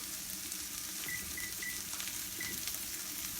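Filet steaks sizzle steadily in a hot cast iron skillet, a continuous close hiss with a few faint high beeps over it.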